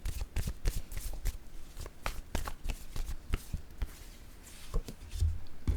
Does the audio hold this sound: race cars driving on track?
no